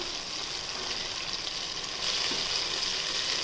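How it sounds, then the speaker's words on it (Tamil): Prawns frying in oil in a home pan for prawn biryani, a steady close hiss of sizzling that swells louder partway through, with no voices. "எண்ணெயில் போட்டு இறா வந்து ஒரு பக்கம் ஃப்ரை ஆயிடுச்சு இன்னொரு பக்கம் பரட்டி விட்டுடலாம்"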